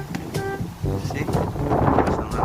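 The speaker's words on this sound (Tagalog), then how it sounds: "See? Bukas ng hangin dito." Strong wind gusts buffet the microphone outdoors in Dubai on an overcast day after rare rain, roaring and rumbling unevenly throughout.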